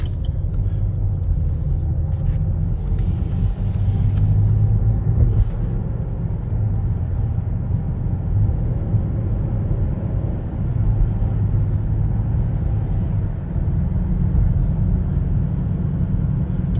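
A car driving through a protected left turn on a road test. The engine and road noise make a loud, continuous low rumble heard from inside the cabin.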